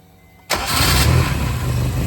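A turbocharged 1998 Honda CR-V engine cranks and catches after half a second of quiet, then settles into a loud, steady idle close by with no voices.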